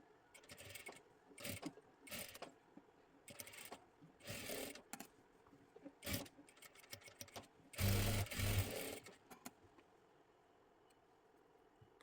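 Sewing machine stitching a katori blouse, running in short separate bursts of rapid mechanical chatter with pauses between them, and a longer louder run near the end.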